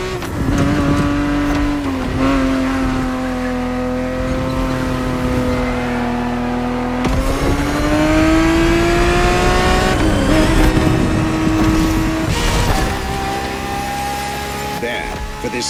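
A Ferrari race car from The Crew Motorfest, a 1970s-era racer, holds a loud, steady engine drone that rises and falls through gear changes, with harsh revving swells around the middle, continuous and close throughout.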